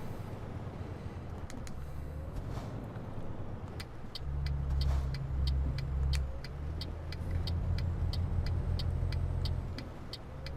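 A Volvo FH16 truck engine in Euro Truck Simulator 2 labors in eighth gear up a very steep hill, a loud, steady low drone that swells and holds as it pulls, with faint periodic ticking above it.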